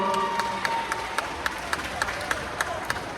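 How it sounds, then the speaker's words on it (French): An audience claps for two mothers at a children's salsa dance event, with sparse, uneven handclaps over a murmuring crowd that fade into scattered individual claps. "Il faut les applaudir très fort."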